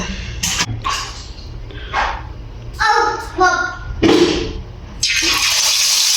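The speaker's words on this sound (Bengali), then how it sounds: "তেলটা গরম হয়েছে প্রায় না ভালো গরমই হয়েছে আমি এখন এখানে চিকেনগুলো দিয়ে দিব" Chicken pieces go into hot oil in a frying pan, and a sudden loud, steady sizzling hiss takes over near the end. Before that come voices, a dog barking and other household noises.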